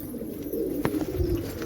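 Pet pigeons in a loft setup give low throaty coos that run continuously at close range, joined by a brief sharp knock partway through.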